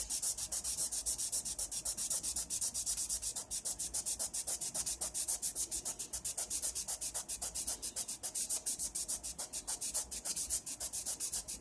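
Hand wet sanding on raw aluminum makes a quick, regular back-and-forth rasp, close and steady, with each stroke clearly separated and no voices.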